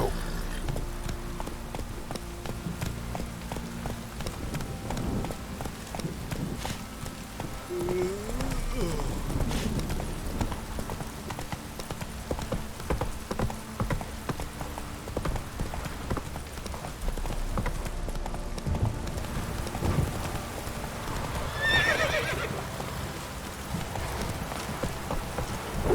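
Horse hooves clip-clop in a steady running rhythm in The Witcher 3 video game, continuous and fairly close over soft ambient noise, with a brief faint whinny-like call near the end.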